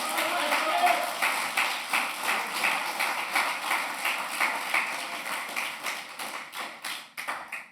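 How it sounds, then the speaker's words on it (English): Applause from a mosque congregation fills the space: a steady, dense patter of many hands clapping, fairly close, that tapers off with a few scattered final claps near the end. "Let's give our sister another strong round of applause."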